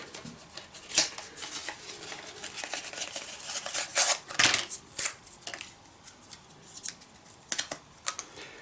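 A Proxxon engraver accessory case being opened, giving a run of sharp plastic clicks, snaps and rattles at close range, with no voices.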